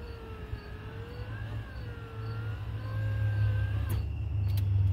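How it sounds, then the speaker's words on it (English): Electric power window on a car rolling up after a window switch repair: a faint, steady motor whine gliding slightly in pitch for about four seconds over low hum, ending with a few soft clicks. "I'll roll the window down, which worked before, and now I'll roll it up"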